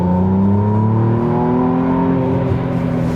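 A McLaren Artura Spider's engine in sport mode revs loud and close from inside the cabin, a smooth, rising hum with layered tones that holds steady, with no voices.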